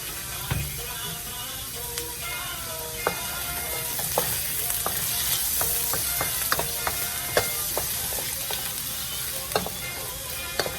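Vegetables sauteing in a pan with a dense, continuous sizzle and scattered light clicks and taps of a utensil, steady and close, with no talk.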